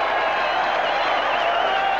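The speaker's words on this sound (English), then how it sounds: "The crowd storm onto the field." Sustained roar of a rugby league crowd as fans storm the field at the end of Auckland versus Australia in 1989, a dense, distant mass of cheering with scattered applause.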